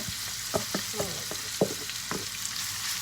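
Rice tossed with red-eye chili paste and fresh shrimp sizzles in a hot pan, with a steady frying hiss broken by several sharp scraping stirs and clinks of the spatula, close and alone.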